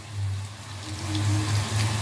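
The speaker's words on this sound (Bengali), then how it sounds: "আর এই মূলো শাকটা আমি এরকম ভাবে চিপে চিপে দেব," Cooked radish greens are squeezed by hand, water dripping and trickling out in a soft, close, continuous wet pour with low gurgling underneath.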